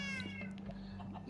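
Cats meowing in Minecraft, a short, soft, fairly faint mew with a rising tonal cry over a low steady hum, heard alone without talk.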